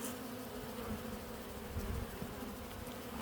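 Honeybees buzz at an opened hive during a winter inspection with a powdered sugar varroa test, a dense, steady hum of many bees close by and without speech.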